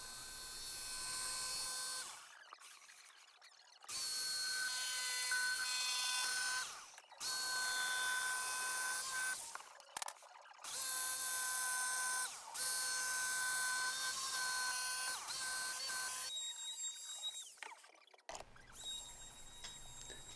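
A power tool cuts through a 3/4 inch MDF board, a loud sustained whining drone running in several long passes separated by abrupt silent gaps, close and alone without speech.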